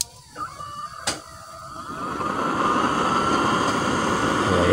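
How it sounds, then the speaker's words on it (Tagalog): A blower is switched on and quickly builds to a steady, loud rushing roar that holds unbroken, after a couple of brief clunks at the start. "Lagyan natin open natin yung blower"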